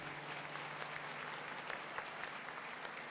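Warm, continuous applause rolls through a crowd in a welcoming ovation, steady and diffuse at a fairly low, distant level with no break.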